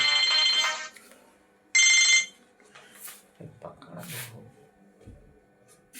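A phone ringtone sounds in two loud electronic bursts, one long and one short, in a quiet room during an accounting class, followed by a man's brief speech and some faint handling noise.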